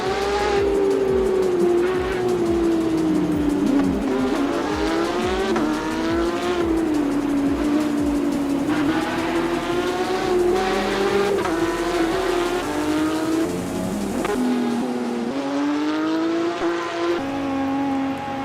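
Porsche Supercup race cars at Albert Park, a pack of engines howling loudly and continuously, pitches rising and falling through gear changes with overlapping cars passing close.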